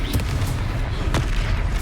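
A Confringo fire spell blasts in the Hogwarts Legacy video game, giving a dense, booming burst of rumbling low-end impact that fills the short stretch at steady loudness.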